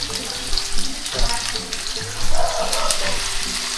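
Chicken skin fries in a pan to render out its fat for a pesto dish, a close, busy crackling sizzle that holds steady through the moment.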